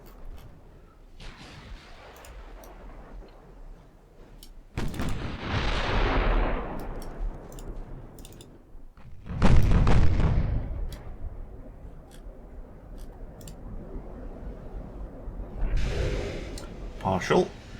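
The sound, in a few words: warship gun fire in video game Ultimate Admiral Dreadnoughts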